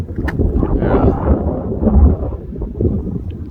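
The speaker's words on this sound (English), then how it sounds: "you can hear the wind" Wind buffets the microphone in loud, low, rumbling gusts during a walk near open water and a power tower, steady for several seconds with no clear break.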